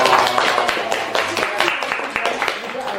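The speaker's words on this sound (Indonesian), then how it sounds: "Tepuk tangan dulu dong." A studio audience at a casual Indonesian talk show applauds steadily for the guests, a dense mix of clapping with crowd noise and some voices underneath.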